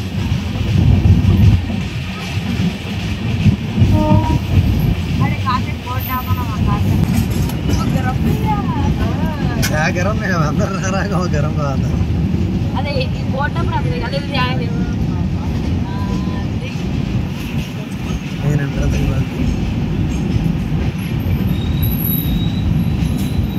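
A train pulls into Pithapuram station, wheels grinding and squealing along the rails as it slows and stops, with a steady rumble underneath and people talking in the background.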